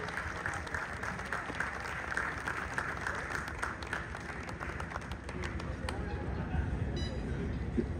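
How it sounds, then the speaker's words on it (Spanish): An audience applauds at a Moca Rebeldes baseball season inauguration honoring Puni Hernández: steady, dense clapping from many hands, moderately distant and continuous for several seconds. "Fuerte el aplauso para Puni"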